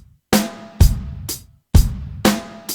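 Drum kit groove with loud snare hits on the backbeat of beats 2 and 4 alongside kick drum, five sharp close strikes in an even rhythm with brief silences between, no talking.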